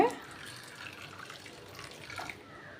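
Hot water pours steadily onto sago in a bowl with a soft, continuous splashing rush, close by and moderately quiet, for a few seconds.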